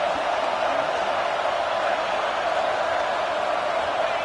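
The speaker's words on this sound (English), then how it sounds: "Listen to this crowd just shaking the girders of this place," Stadium crowd roar in a simulated football video game, a loud, steady wall of broadband crowd noise sustained without pause throughout.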